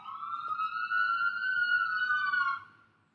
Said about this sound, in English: they turned off the siren